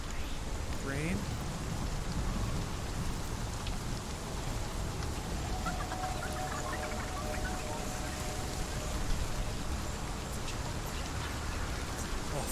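Steady rain falling in the video game Hellblade: Senua's Sacrifice, a dense constant hiss of drops with a faint low rumble underneath and a few brief higher cries.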